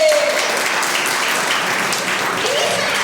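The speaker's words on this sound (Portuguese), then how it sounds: "Palmas pra vocês!" A confirmation catechesis group applauds, a full, close burst of many hands clapping that stays loud and steady throughout, with faint voices mixed in under the clapping.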